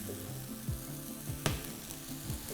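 Spice mix and chilies fry in a pan for a chilli with kidney beans, giving a steady low sizzle with a few soft knocks from stirring, close and moderately loud, with no talking.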